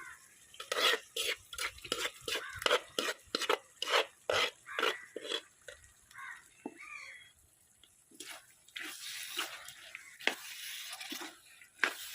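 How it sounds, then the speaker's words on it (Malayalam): A spoon scraping and clattering in a pan as cooked soya chunks are stirred into roasting masala, a run of rhythmic knocks followed by slower, softer stirring. "നമ്മൾ നേരത്തെ വേവിച്ച് മാറ്റി വെച്ച സോയ ഇതിലോട്ട് ചേർത്തൊന്ന് ഇളക്കി കൊടുക്കണം"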